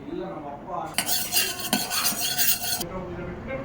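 Cloves, poppy seeds, dry coconut and half an onion dry-roasting in a pan, with a burst of spoon scraping and gritty stirring for about two seconds, surrounded by quieter clinks and faint sizzle.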